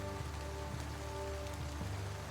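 Steady rain in a blowing gale, a dense continuous hiss of drops striking surfaces with a low rumbling undertone, even in level throughout and with no voices.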